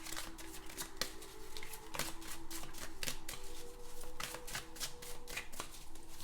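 A deck of Steampunk Tarot cards is shuffled up close in quick, crisp riffling bursts, a steady run of soft papery slaps and flutters with no talking.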